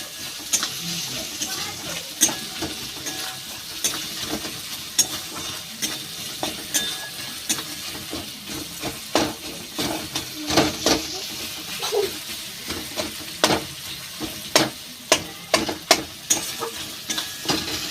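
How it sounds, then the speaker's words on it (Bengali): Tomato with salt frying in a pan while being stirred, a steady sizzle broken by repeated scraping and clinking strokes of the spoon across the pan, fairly close and with no talk over it. "এইবার আবার ভালো করে একটু ভেজে নেব।"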